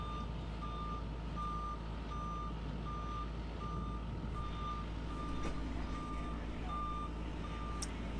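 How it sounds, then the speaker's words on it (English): A truck with a load of chain link fence sounds steady, evenly spaced reversing beeps over a continuous low engine rumble. The beeps are clear and moderately near. "that's just a truck with some chain link fence"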